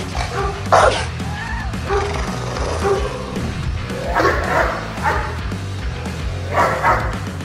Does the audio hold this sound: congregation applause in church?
no